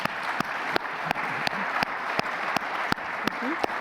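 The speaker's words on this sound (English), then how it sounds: "I want to give you a round of applause" Audience applause at a carbon capture session, heard as steady clapping at moderate volume with sharp, regular louder claps standing out and a faint voice briefly over it.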